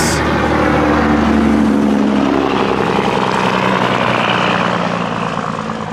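A truck rumbles close by with a loud, steady engine drone and low growl that stays strong for the whole stretch, easing only slightly toward the end.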